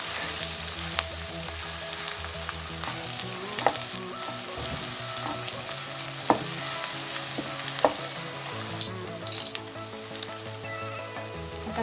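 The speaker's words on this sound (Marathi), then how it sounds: "आता आपण ह्याला थोडंसं फ्राय करून घेऊया" Chopped vegetables and two green chillies fry in a pan for a vegetable strips dish, giving a steady loud sizzle with occasional sharp pops and spoon scrapes, close up, with no voices.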